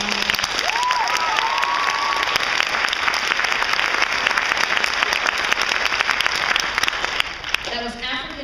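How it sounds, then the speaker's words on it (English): Audience applause following a high school men's choir performance, sustained dense clapping throughout with a few light whoops near the start and a brief voice near the end. "Give them a round of applause."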